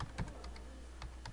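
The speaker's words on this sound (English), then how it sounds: "and then I can type Chloe Cassidy High School" Several quick keystrokes clack on a computer keyboard while text is typed, close and fairly soft, with no voice.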